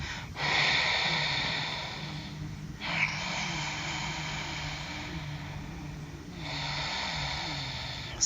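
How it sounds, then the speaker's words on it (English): Ujjayi yoga breathing through a constricted throat, with long, loud, hissing breaths close to the mic that rasp like a soft ha and change direction twice, a few seconds per breath. "Start your Ujjayi breath if you want to feel that breath a little stronger, so it sounds more like a ha sound as you're breathing"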